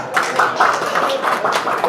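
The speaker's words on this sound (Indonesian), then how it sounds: "Sekali lagi tepuk tangan untuk MGSI Surabaya" Applause for the MGSI Surabaya group at a gathering, a steady mid-level patter of hands with some overlapping voices, lasting about two seconds.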